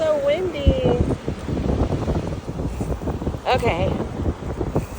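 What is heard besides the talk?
strong wind on a cold beach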